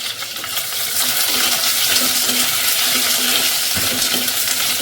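Sliced onions sizzling in hot oil in a pan for a Kerala-style fish curry, a steady dense hiss that holds evenly throughout, close and loud, with faint stirring clinks underneath and no voices.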